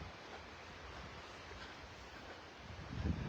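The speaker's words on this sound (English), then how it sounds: "Now the wind is a little stronger." Wind blows outdoors as a steady broadband rush that swells into stronger buffeting on the microphone near the end, with no voices.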